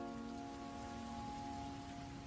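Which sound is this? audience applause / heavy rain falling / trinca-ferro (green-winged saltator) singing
heavy rain falling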